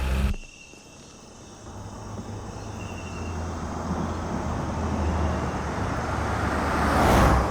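A car drives off through a border checkpoint at night, its steady low engine and road rumble building gradually amid a constant background of crickets or insects, with no talking.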